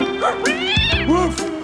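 A cat in an animated children's story meows repeatedly, with several drawn-out, wavering cries close up and loud, mixed with soundtrack background.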